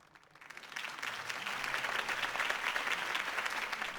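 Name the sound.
crowd applause in a video game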